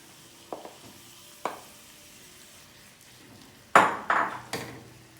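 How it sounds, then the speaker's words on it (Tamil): Almond paste stirred into hot milk in a pan: a few sharp spoon scrapes and clinks against the pan, spaced irregularly, the loudest cluster near the end, over a faint background hiss. "நம்ம அந்த பாதாமை இந்த பாலில் சேர்த்து எல்லாத்தையும் ஃபுல்லாக மிக்ஸ் பண்ணிட்டோம்."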